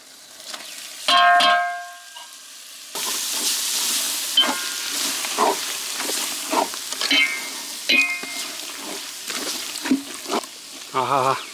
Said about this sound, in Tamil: இப்போ அடுத்தது வந்துட்டு குடலை கொஞ்சம் சேர்த்துட்டு ஃப்ரை பண்ணுறோம்.